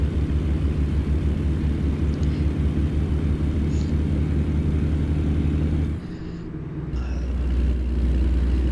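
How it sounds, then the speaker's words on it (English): A truck cruising in American Truck Simulator, its chassis giving off a steady low rumble and rattle that drops away briefly, then returns. "These chassis noises are just ridiculous."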